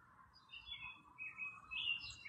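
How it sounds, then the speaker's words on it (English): Faint birds chirp and tweet in the distance, light overlapping calls drifting over a quiet outdoor background. "But I still hear a ton of birds chirping."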